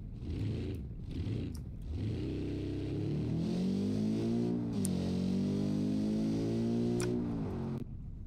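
A car engine in the video game BeamNG.drive revs up through rising and falling pitch, a smooth sustained drone with faint ticking, fairly close and without talk.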